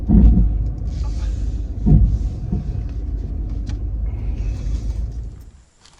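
A car driving home in four-wheel drive over ground it barely grips, with a loud, close, continuous low engine and road rumble that surges briefly, then fades away at the end.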